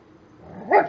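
A dog gives a low rumbling growl that builds into a single sharp yap near the end, close and fairly loud, with no talking.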